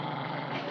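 A low, rumbling dog growl, close and continuous for a brief moment.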